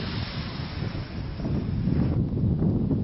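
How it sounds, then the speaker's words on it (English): A light breeze buffets the microphone on an open ridge during a winter walk, a soft, steady rush of wind noise with no voices. "A little breeze, but not too windy."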